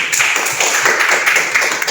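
Steady, dense applause from a classroom of students, close and continuous with no talk over it.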